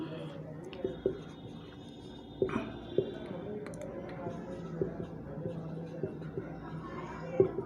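Chalk or marker taps and strokes on a board during a Class 10 physics lecture on light, soft intermittent clicks scattered through a quiet room.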